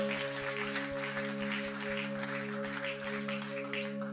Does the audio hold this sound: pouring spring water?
no